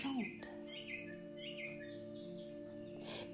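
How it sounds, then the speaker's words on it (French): Birds chirping and singing in a calm enchanted-garden scene for a children's sleep relaxation, a series of faint, soft tweets repeating against a quiet sustained musical drone. "plein d'oiseaux de toutes les couleurs. Écoute-les, ils chantent."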